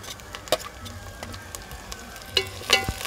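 Green chillies and curry leaves fry with onions in hot oil for a fish curry, giving a soft steady sizzle broken by several sharp pops and crackles.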